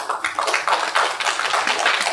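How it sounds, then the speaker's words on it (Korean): An audience claps continuously for a city council chairman at a Korean book talk concert, a dense, close patter of hands lasting a couple of seconds with no talk. "박수로 모셔주십시오."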